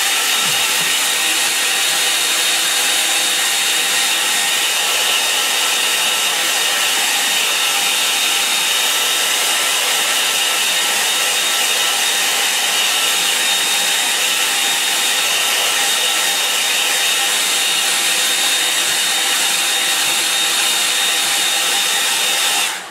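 A hair dryer blows steadily and loudly on a watercolour painting of an abstract landscape sky, a continuous close whir with no talk over it.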